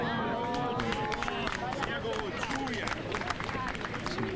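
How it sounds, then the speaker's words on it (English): Spectators at the 1995 Volvo Masters golf tournament, a Czechoslovakian crowd, keep up a steady murmur with scattered claps and cheers. Commentary-like voices sit over the babble throughout. "Some Czechoslovakian crowd there."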